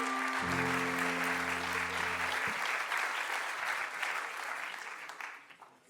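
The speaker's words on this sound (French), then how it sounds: "Allez, on l'applaudit très fort, André." Audience at a festival conference, the West Web Festival, applauding loudly and steadily. A low tone hums beneath the clapping early on, and the applause fades out toward the end.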